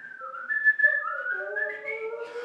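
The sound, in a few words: whistling imitating a flute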